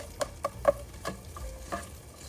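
Chopped onions are tossed in about two tablespoons of oil in a pan for a quick pasta dinner. A soft sizzle runs under several sharp spatula scrapes and taps against the pan, with no talking.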